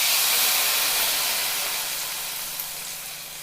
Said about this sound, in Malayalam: നമ്മൾ കറിയിലേക്ക് താളിപ്പ് ഒഴിച്ച് കൊടുക്കാം.